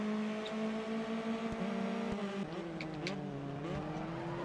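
Race car engine in Grid Autosport, a loud sustained engine whine with tonal harmonics that holds steady and then drops in pitch as gears shift, close and without talk.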